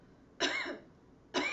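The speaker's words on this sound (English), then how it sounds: "give 3 deep coughs." Two loud, deep coughs, each a short harsh burst separated by a brief pause, close to the listener with no talking.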